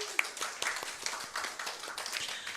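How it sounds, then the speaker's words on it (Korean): A modest group of residents at a public hearing on Seoul ecotourism and the Dorimcheon stream claps briefly and unevenly, quiet scattered hand claps forming a light round of applause. "이 자리에 안 계시지만 박수 한번 부탁드립니다."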